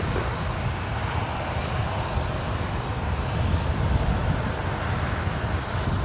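A United airliner landing at San Francisco International Airport: steady, loud broadband jet engine roar holding throughout, close by, with no talk over it.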